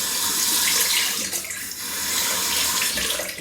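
Water gushes steadily from a bathroom tap into a basin at close range, a loud continuous rushing hiss with slight splashing.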